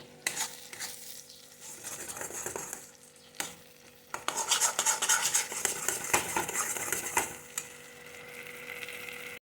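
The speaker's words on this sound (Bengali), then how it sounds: "আমি এটা আস্তে আস্তে করে একটু নাড়াচাড়া করে নেব" Food stirred in a pan on a gas stove, with metal utensil scrapes and clinks over a soft sizzle; a short quiet patch early on, then steadier, busier stirring through the rest.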